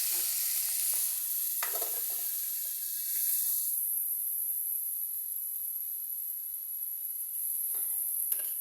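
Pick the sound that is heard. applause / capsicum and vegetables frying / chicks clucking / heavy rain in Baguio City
capsicum and vegetables frying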